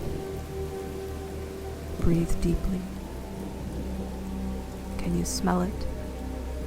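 Steady rain falls as a continuous soft patter beneath a calm voice speaking twice, with a faint low hum running throughout.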